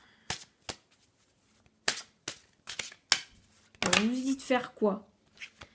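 Tarot cards being handled and shuffled give a series of sharp, separate snaps and flicks, then a voice speaks briefly near the end.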